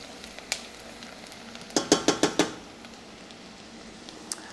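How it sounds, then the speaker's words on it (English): Cumin seeds and spices stirred in a cooking pot, a quick burst of five scraping, sizzling strokes in the middle over a steady low frying hiss, with a couple of lone clinks before and after. "So we're just gonna keep stirring."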